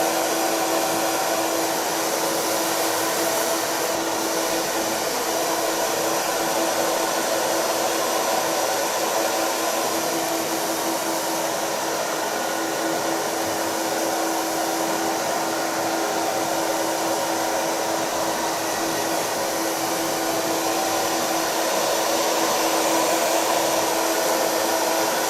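A hair dryer blows steadily while drying a pixie cut, a loud continuous whirring hiss with a constant motor whine, running without pause and with no talk over it.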